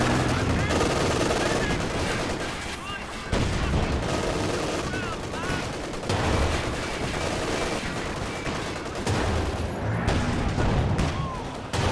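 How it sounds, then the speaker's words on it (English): A Panther tank's gun fires amid the battle noise of Company of Heroes 2, with dense machine-gun and artillery fire rumbling continuously and a commentator talking over it. "Big shot from the Panther there, though, helping the Volks take out the 6-pounder."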